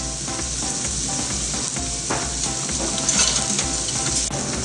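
Finely chopped onion sizzling in garlic butter in a pan, a loud continuous fry with occasional stirring scrapes and crackles and no voices.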